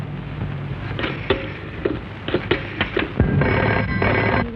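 An old-style telephone bell rings in short bursts, fairly close, with light clatter and background noise between rings.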